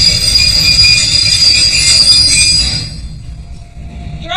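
Train wheels squeal loudly on the rails for a few seconds over a rumbling carriage drone, close and piercing, then the squeal fades out, leaving a quieter rolling rumble.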